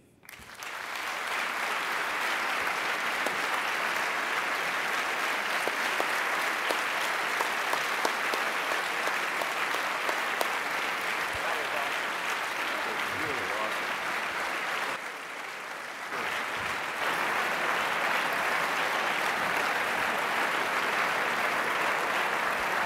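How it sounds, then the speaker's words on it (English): Thunderous applause from a large audience fills the room, a dense continuous wash of clapping that holds steady for over twenty seconds, dipping briefly in the middle before swelling back up, with no voices over it. "That's a pretty thunderous applause."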